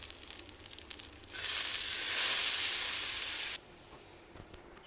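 An oats dosa cooks in oil with onion on a pan, giving a soft sizzle that swells for a couple of seconds and then cuts off abruptly, leaving a quiet background.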